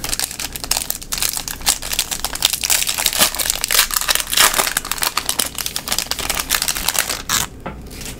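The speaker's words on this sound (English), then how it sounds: "Today I'm opening a pack of 2024 Bowman." A retail foil pack of 2024 Bowman baseball cards is torn open and handled, giving loud, continuous close-up crinkling and crackling of foil wrapper for several seconds.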